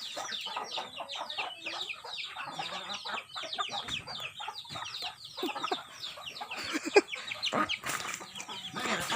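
A flock of tall chickens clucks busily nearby, with dense overlapping clucks and squawks in quick irregular bursts, fairly faint but constant, and a few louder calls toward the end.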